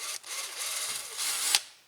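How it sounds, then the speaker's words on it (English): A power drill bores into a fish gaff handle in a short, close whine that rises in pitch and stops abruptly after under two seconds. "I'm going to go ahead and drill it there"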